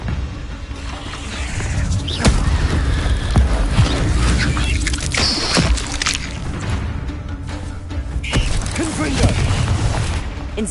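Spell blasts from the Incendio and Confringo spells in Hogwarts Legacy, with repeated booming bursts and crackling impacts over a dense, continuous game soundscape of low rumble, loud and close throughout.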